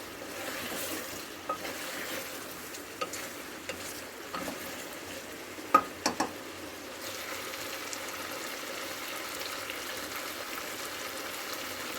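Braised meat with chopped green chili frying in a pot makes a soft, low hiss of sizzling, with a few light clinks of a spoon in the middle.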